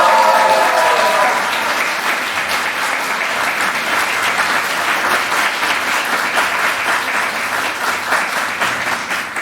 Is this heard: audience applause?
yes